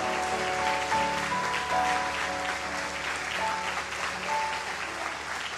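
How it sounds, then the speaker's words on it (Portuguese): A church congregation applauds loudly and continuously during a service, dense clapping that holds steady throughout, with faint sustained tones beneath it. "Você pode aplaudir o nome do Senhor?"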